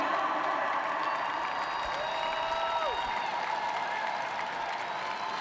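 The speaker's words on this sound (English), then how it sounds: "Jack Lai acknowledging the cheers of the crowd" A stadium crowd at an ASEAN Para Games track and field heat cheers and applauds an athlete from Singapore, a steady wash of distant clapping and cheering with a few tonal sounds rising over it.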